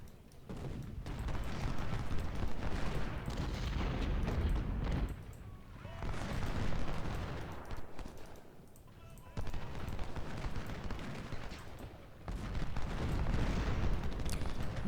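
Musket volleys and artillery fire in the Civil War strategy video game Ultimate General: Civil War at the Battle of Stone's River, as dense rolling bursts of crackling gunfire and booms that swell and fade in waves, with brief quieter gaps.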